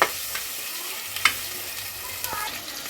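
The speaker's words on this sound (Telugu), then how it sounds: "టమాటా ముక్కలు వేసేస్తున్నా అండి" Tomato pieces fry in a pan for goat head curry, a continuous soft sizzle with a few scraping stirs and light clinks of the spoon.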